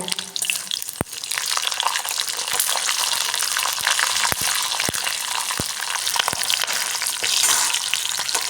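Chana dal with dried red and green chillies frying in oil: a loud, close, continuous sizzle scattered with sharp crackling pops, no voices.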